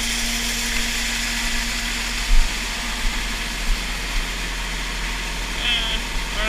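A grain auger unloading dry corn drones steadily and loudly in a continuous mechanical whir, with a low engine hum underneath and a few brief knocks.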